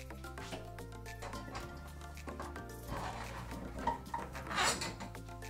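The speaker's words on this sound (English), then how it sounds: "Now I'm gonna put my chicken wings in the saucepan." Clattering kitchen noises over steady background music: chicken wings dropped into a metal saucepan with a few soft clunks and a brief rattle near the end.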